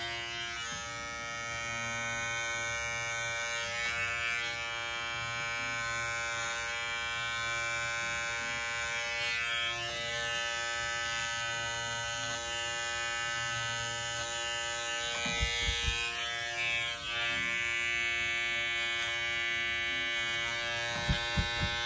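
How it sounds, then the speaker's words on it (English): An electric carver shaves the pile of a tufted rug, giving a steady, close motor buzz that hums continuously throughout with only slight dips, and no voices over it. "We're learning how to shave, so, and carve, and making our rugs look great."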